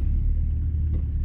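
A car drives along a road through a park area, a steady low engine and tyre rumble close by, even and continuous for a brief moment.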